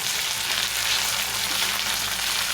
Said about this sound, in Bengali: আদাটা একটু ভেজে নিতে হবে।